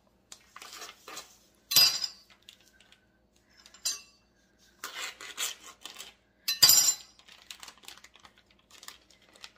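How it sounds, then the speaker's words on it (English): Stew beef with its juices going into a crock pot: scattered metallic clinks and scrapes of a utensil against the pot come in short, irregular bursts separated by quiet. "Let me get this in the crock pot."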